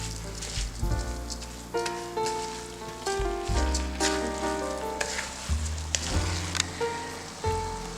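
Rice and herbs for Bukharian green rice fry with a loud, steady sizzle in a pot, stirred repeatedly with heavy scraping and thumping strokes at close range.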